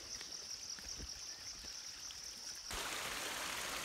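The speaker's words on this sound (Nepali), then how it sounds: "यहाँ चाहिँ झरना झरिरहेको छ है तल।" Water spills from an irrigation channel as a small waterfall onto a muddy hill road, making a continuous rushing flow that swells louder and brighter toward the end.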